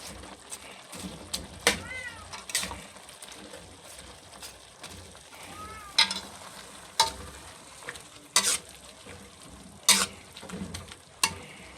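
Cabbage and red pepper are stir-fried in a pan for sotanghon guisado, a low sizzle punctuated by loud scraping strokes of a spatula, with a cat meowing faintly at times.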